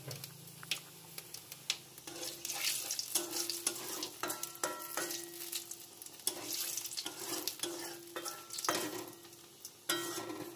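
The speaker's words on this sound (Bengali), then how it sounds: "শুকনো লঙ্কা ফোড়ন দিচ্ছি, পাঁচফোড়ন।" Dried red chilies and panch phoron frying in hot oil for khichuri, a close, steady crackling sizzle broken by repeated scraping stirs and sharp spatula knocks against the pot, with no talking.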